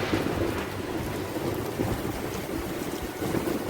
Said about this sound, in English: This, ladies and gentlemen, is a proper Kuala Lumpur thunderstorm.